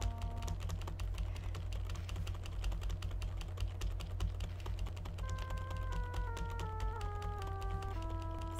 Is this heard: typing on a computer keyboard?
yes